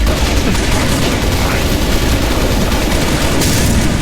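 Dense gunfire rattles almost without pause through a Halo: Reach battle, a loud and steady wash of rifle fire and blasts with no clear gaps between shots.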